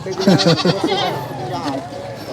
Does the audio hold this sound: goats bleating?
yes